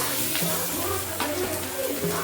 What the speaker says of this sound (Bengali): এই তেলে এবারে আমি আলুগুলো ভেজে নেব